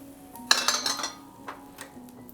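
Metallic scraping and clinks as a fried egg is slid out of a tin-lined copper frying pan: a cluster of bright clatters near the start, then a few lighter taps, with no talking.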